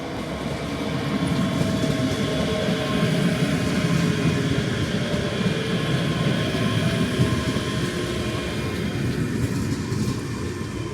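A ScotRail train at Stepps station makes a continuous low rumble with a faint metallic ring, sustained and fairly near for the whole stretch.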